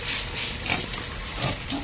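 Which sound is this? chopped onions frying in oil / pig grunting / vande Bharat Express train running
pig grunting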